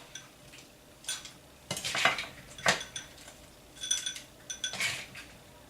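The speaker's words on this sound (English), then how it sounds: "I'm just going to scoop a good helping of this up." A spoon scoops breakfast salad into a small breakfast-sized bowl, with several scraping clinks and taps of cutlery against the dish in an irregular rhythm, close and fairly quiet.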